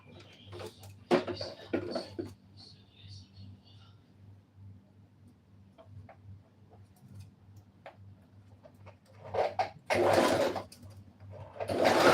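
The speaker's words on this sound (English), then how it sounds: "It's real hustle sewing with this domestic machine with such fabric." Domestic sewing machine working through heavy fabric for a cowl neck blouse, short bursts of rapid stitching separated by pauses and faint handling clicks, with one louder stretch near the end; a low hum runs underneath.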